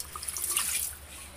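Tap water runs steadily into a pot being filled for boiling garlic, a bright continuous hiss and splash close by lasting just over a second with no talking.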